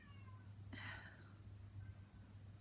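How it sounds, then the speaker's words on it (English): A cat meows once from the far side of a closed door, a short muffled call rising over a steady low household hum, with no one talking. "My cat is now meowing on the other side of that door."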